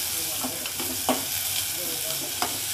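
A large onion sautéing in a pan for a dried-fish curry, a steady sizzle broken by several sharp scraping strokes of a spoon stirring against the metal, close and clear.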